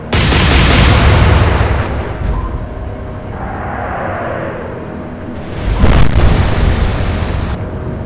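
A naval gun salvo fires in an Atlantic Fleet battle between the Royal Navy and the Kriegsmarine: two heavy booming blasts a few seconds apart, each rolling off into a rumbling tail, with no voices over them.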